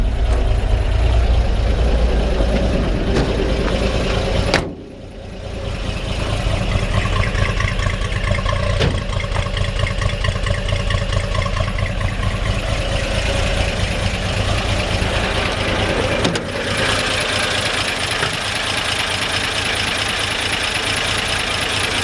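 A 1946 Chevrolet 3600 truck with a 235 engine idles nearby in a steady, loud, continuous rumble, dipping briefly around five seconds before settling back into an even idle.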